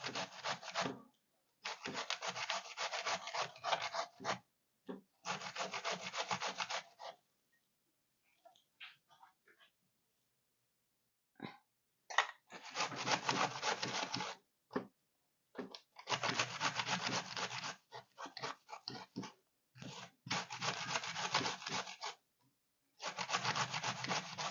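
Zucchini grated by hand, repeated rhythmic rasping strokes in bursts of several seconds, separated by short quiet pauses, close and clear.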